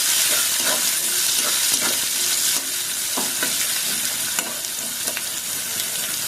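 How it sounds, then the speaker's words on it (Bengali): Chopped medium onion frying in a pan, a steady loud sizzle with intermittent stirring scrapes and clicks throughout, no voices. "পেঁয়াজটা একটু লাল লাল করে ভেজে দেবো"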